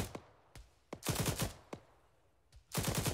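Machine gun fire in the military shooter Arma 3 on Chernarus: isolated single cracks followed by two short rapid bursts of several rounds each, sharp and fairly close, with almost no talk.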